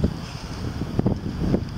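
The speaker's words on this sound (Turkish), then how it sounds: "Rüzgar çok şiddetlendi yalnız." Strong wind on Büyükada island roars steadily against the microphone, with low rumbling gusts swelling and buffeting throughout, no voices.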